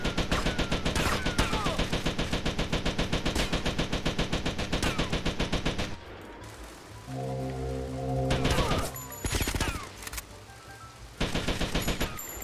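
Rapid automatic gunfire in the video game GTA Vice City, a dense burst of shots lasting about six seconds, then quieter game sounds and a few more scattered bursts.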